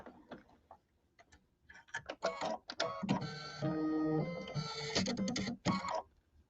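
An embroidery machine sews a satin stitch around a bubble shape for a bench pillow, with rapid rhythmic needle clatter in bursts separated by short pauses, close and fairly loud.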